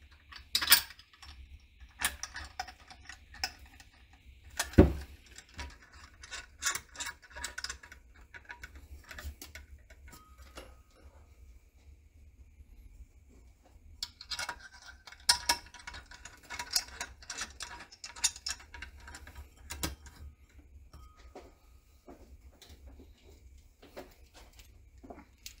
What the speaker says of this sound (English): And these are a 7/32 hex key. Just make them nice and snug.